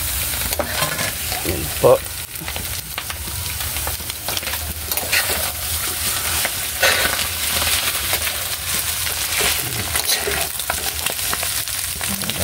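Cooked rice for garlic fried rice sizzles loudly and continuously in a hot pan while being stirred, with scraping and tossing sounds throughout and a brief spoken remark near the start.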